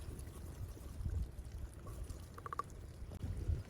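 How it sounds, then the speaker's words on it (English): Thick chili poured into a pan on a cinder-block rocket stove outdoors, quiet soft glugging and splattering with a few small clinks, faint and close. "all you're gonna do is pour your chili in here, just like that"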